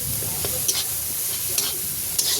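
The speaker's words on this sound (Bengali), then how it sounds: "ধনে গুঁড়ো দিয়ে দিলাম দিয়ে ভালো করে একটু কষিয়ে নেবো" Banana flower sautéing with coriander powder and a little gram flour: a steady close oil hiss, broken every second or so by a soft scrape of stirring. No talk.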